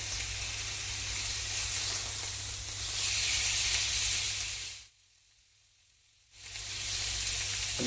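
An oiled steak sizzles on a grill, a steady loud hiss that briefly cuts out to near silence while the meat is turned, then resumes just as strongly.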